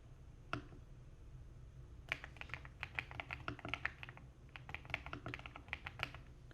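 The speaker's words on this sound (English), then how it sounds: "you'll occasionally hear me typing notes into the system" Quiet typing on a computer keyboard, irregular bursts of light key clicks with short pauses, close but faint.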